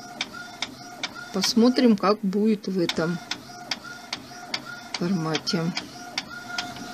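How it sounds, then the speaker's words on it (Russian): Inkjet printer running a sheet of printable paper for fabric transfer, with repeated evenly spaced clicks and carriage whirs throughout, close and moderately loud, while someone talks over parts of it. "Все, печать пошла."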